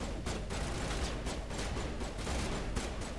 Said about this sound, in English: they're shooting at the wall